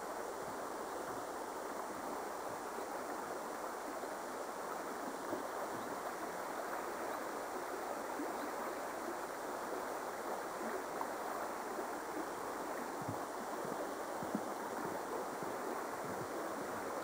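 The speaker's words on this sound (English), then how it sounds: "That's the River Blues." A river in Scotland rushes steadily and continuously, a broad close wash of flowing water with no pauses, voices or other sounds standing out.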